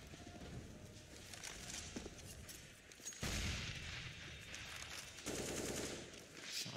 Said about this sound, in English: Shots out.